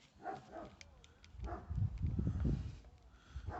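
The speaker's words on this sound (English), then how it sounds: "our neighbor's dog's barking" A neighbor's dog barks faintly somewhere outside a front yard, a few distant, muffled barks set against low outdoor rumble.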